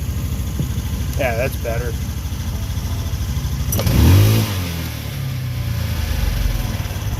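Small tractor engine idling close by, with a brief rev that swells and falls back to a steady low rumble after a throttle adjustment, while someone speaks briefly over it.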